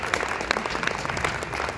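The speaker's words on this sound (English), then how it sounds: "Oh yeah, you can clap." Audience at a final high school band concert applauding, a dense patter of many hands clapping steadily for a short stretch, fairly faint and heard from within the hall.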